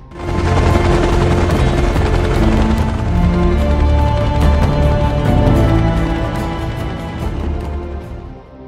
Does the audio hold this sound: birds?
no